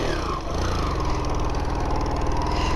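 An old, cheaply bought motorcycle engine runs close up at a steady idle, with a rhythmic pulsing throb and a brief dip before settling into an even chug.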